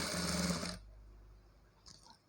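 A sewing machine stitching a cloth model hand: a short, close run of rapid stitching under a second long, then it stops, leaving near silence with a faint knock at the end.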